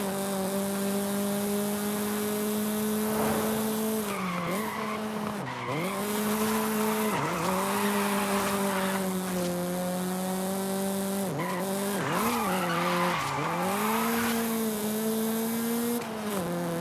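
A Nissan Silvia Spec-R 2000 engine in Forza Horizon 5 revs steadily in a high drone near 5,000 rpm, dipping and rising through several shifts, with tire squeals breaking in, loud and continuous throughout.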